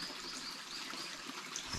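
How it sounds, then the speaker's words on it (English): Running water trickles continuously at a steady, hissing babble, faint and close by, with no voices over it. "but we do have running water down here"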